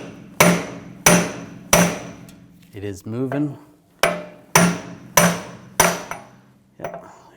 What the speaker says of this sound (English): Now I'm going to take a large punch and just hammer the axle out